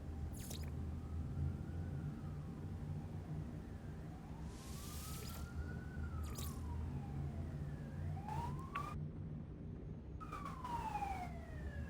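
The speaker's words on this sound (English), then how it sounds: "Actually, I'm pretty sure it's an ambulance." An ambulance siren sounds in the No Man's Sky video game. Its wailing tone rises and falls several times at a moderate distance over a steady low engine-like hum, faint and continuous with no talking.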